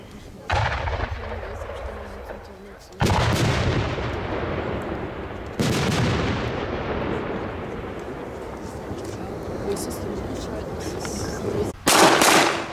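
Loud German firecrackers called Löwenzahnbombe explode outdoors in a row of sharp blasts, each followed by a long rumbling decay, with a final bang near the end and faint voices in between.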